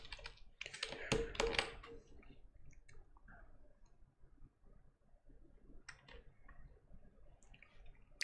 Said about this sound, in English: A little bit of dancing around on the Nordic keyboard for these.